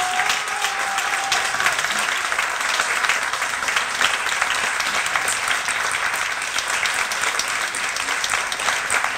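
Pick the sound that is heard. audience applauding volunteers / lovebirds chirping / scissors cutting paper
audience applauding volunteers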